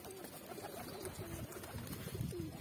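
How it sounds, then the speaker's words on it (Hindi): Pigeons coo softly nearby, with a few low, rolling calls repeating over faint background noise. "तो देखते हैं कबूतरों को उड़ाते हैं, कबूतरबाजी करते हैं।"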